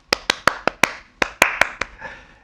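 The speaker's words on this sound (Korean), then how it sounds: "일단 저희 시작하기 전에 박수 한번 치고 시작할까요?" A single person claps crisply and close up, about nine sharp claps in two quick rhythmic groups with a short pause between them, in an otherwise quiet room.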